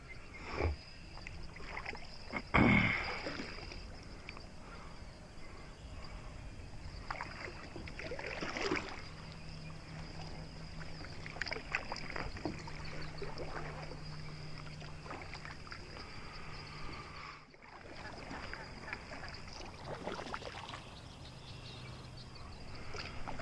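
A canoe or kayak paddles through Cherokee Marsh, with faint soft strokes and water splashes in quiet surroundings, occasional knocks and distant bird calls.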